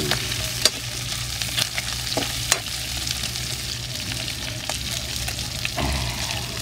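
Adobong kangkong ingredients sizzle steadily in a hot pan while a utensil scrapes and stirs them in occasional sharp clicks, heard close with no talking.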